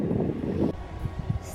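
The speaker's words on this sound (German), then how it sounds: "da pfeift jetzt doch etwas ein kalter Wind." Cold wind at a river headland near Forchheim in early March gusts against the microphone in a low, rumbling rush, then eases into quieter, uneven puffs.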